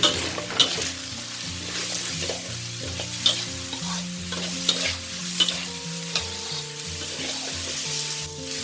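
Rice seasoned with white soy sauce and sugar is stir-fried in a pan, with a spatula scraping and tossing it in repeated strokes over a low sizzle. Gentle background music plays underneath.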